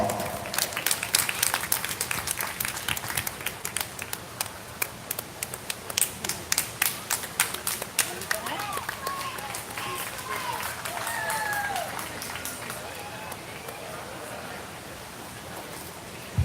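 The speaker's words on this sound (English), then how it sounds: "please give these 3 exhibitors a big round of applause" An audience at a county fair 4-H/FFA beef show claps for three exhibitors, a sustained round of close, dense applause that thins toward the end, with faint voices underneath.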